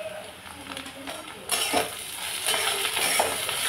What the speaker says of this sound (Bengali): সেই ম্যাগি মশলাটা আমি ভালো করে ভেজে নেব